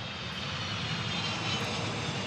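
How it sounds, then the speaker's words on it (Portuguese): A steady airplane engine roar at an airport stays constant and moderately distant, a broad droning wash without talk. "Estamos vendo os aviões que levam as pessoas à Área 51."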